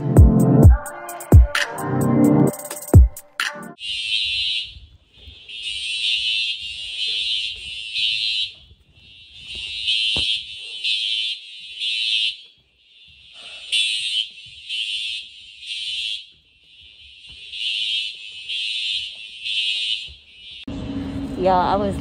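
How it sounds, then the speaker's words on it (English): A building fire alarm sounds in a long series of loud, rhythmic electronic pulses in repeating bursts with short gaps, alone for most of the stretch, with brief clatter at the start and a voice at the very end. "out of nowhere, the fire alarm starts going off, and I had to hurry up and run out."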